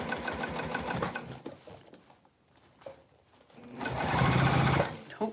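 A sewing machine stitching a bowler bag, with short bursts of motor whir that stop and start again, and a quieter pause in the middle.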